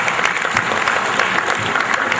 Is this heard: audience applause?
yes